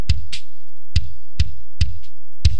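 A kick drum heard through the kick-out microphone outside the shell, playing six isolated hits in an uneven pattern, each with a round low boom, a slightly longer tail and a softer attack click.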